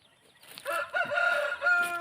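Chickens cluck and call in a short burst of fowl sounds, fairly close, with no talking.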